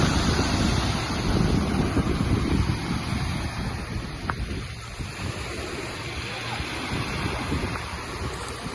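Evening sea waves wash ashore on a Crimean beach in a steady, moderate surf wash, while wind buffets the microphone.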